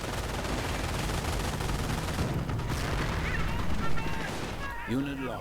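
Artillery fire in a Company of Heroes battle between US and Wehrmacht forces, a dense continuous rumble of gunfire and shelling with a few sharper booms, a commentator's voice heard briefly near the end.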